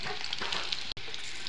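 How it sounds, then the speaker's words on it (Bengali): Chopped onion sizzles in hot oil in a wok, a steady bright crackle with a quick stir and a brief break midway. "আমি এখন দিয়ে দিছি পেঁয়াজ কুচি। পেঁয়াজটা অল্প লাল লাল করে ভাজা"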